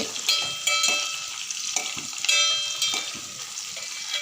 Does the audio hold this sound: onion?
yes